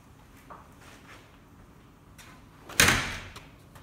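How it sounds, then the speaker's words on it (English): A door is swung shut to test a newly adjusted lock keep, landing as one sharp, close thud and latch clack midway through an otherwise quiet room with faint earlier rattling. "Now we have to try the door."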